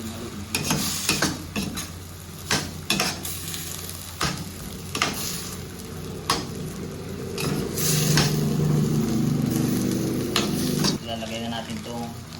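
Adobong kangkong being stirred in a frying pan with oyster sauce, a steady sizzle under repeated sharp scrapes and clacks of a utensil against the pan, with occasional speech.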